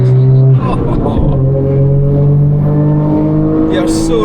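A modified Suzuki Cappuccino kei car engine revs loudly and close up, its pitch climbing and falling through several rises as the car accelerates, with a faint voice alongside.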